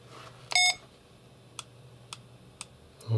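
A loud electronic beep burst near the start from a Baofeng UV-3R Mark II two-way radio, then several short, faint ticking beeps spaced about half a second apart, ending with another louder blip.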